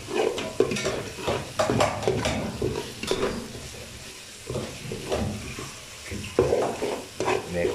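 Chili, onion, bay leaf and cinnamon sizzle in a pan while a utensil stirs them, giving steady frying hiss broken by repeated scraping strokes against the metal, close and fairly loud with no talk over it.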